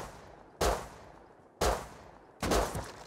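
AK rifle gunfire in Rust: three sharp, loud single shots spaced about a second apart, each with a short ringing decay, over a quiet background and with no voice.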